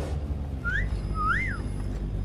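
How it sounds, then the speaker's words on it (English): A person whistles two short, sliding rising-and-falling notes over a low rumbling background. "Me whistling like a man."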